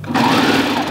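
A sewing machine stitches the seam of a knit crop top in a fast, steady whir, close and loud throughout.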